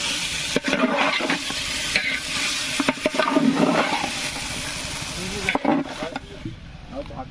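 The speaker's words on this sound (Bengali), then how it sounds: "এবার ভালো করে কষিয়ে নেব" Marinated chicken sizzles and bubbles in a pan while it is stirred and sautéed, with a wet spitting hiss and scraping bursts that rise and fall. A voice speaks over the cooking noise.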